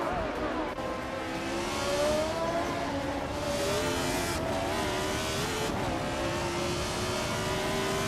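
A 1970 Lotus 72D race car engine in a racing game, a steady high-pitched whine that rises and falls slightly through gear changes, with tire noise beneath and a voice talking over it.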